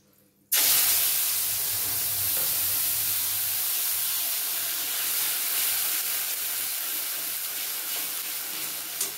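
A sudden loud burst of sizzling as ginger, garlic, chilli, tomato and onion paste hits hot oil in a kadai, then a steady, intense hiss that continues for several seconds.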